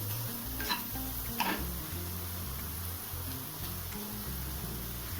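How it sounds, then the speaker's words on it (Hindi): Rice stirred in a hot sizzling pan while cooking a Chinese-style dinner, a steady soft frying hiss with occasional scraping stir sounds, no talking. "तो अब चलिए अब यहीं पे डाल देते हैं चावल भी।"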